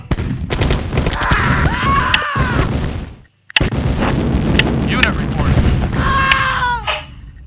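Loud booming blasts and crackling energy bursts from an ion cannon in Command and Conquer, with a brief silent gap, then more heavy explosive rumbling and zapping sweeps.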